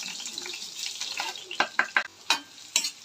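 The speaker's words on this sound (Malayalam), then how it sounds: "അതിലേക്ക് ഓയിൽ ഒഴിച്ചു ചൂടായ എണ്ണയിലേക്ക് നമുക്ക് അരിഞ്ഞു വെച്ച ഉള്ളി ഒരു ചെറിയ പീസ് പൊട്ടറ്റുണ്ടായിരുന്നു പിന്നെ പച്ചമുളക് രണ്ടെണ്ണം അതും കൂടി അത് ചേർത്ത് വെക്കാം" Chopped onion, a small piece of potato and two green chilies sizzling in hot oil in a pan, a dense close frying hiss with a run of crisp stirring clicks and scrapes toward the end.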